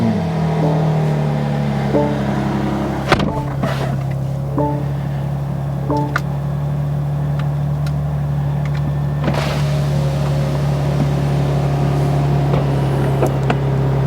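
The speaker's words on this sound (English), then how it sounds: "We start the car up." A 2024 BMW M4 Competition Convertible xDrive idles with a loud, steady low drone, with clicks and whirs of the convertible top mechanism over it and no talking.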